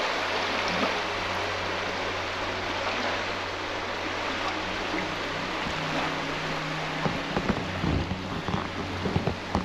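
Broad, steady rush of a river confluence flowing at night, with small waves lapping, heard close and continuous, a few louder splashes near the end, no talking.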